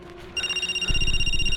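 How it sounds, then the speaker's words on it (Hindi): A telephone rings unanswered at home, a steady electronic ring tone that starts abruptly and repeats in a continuous pulsing pattern with a low rhythmic buzz beneath it, close and fairly loud, with no one talking. "कोई फोन क्यों नहीं उठा रहा?"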